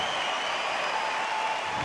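A packed boxing arena fills the air with a steady wash of crowd noise and applause before a women's title bout, constant and unbroken throughout.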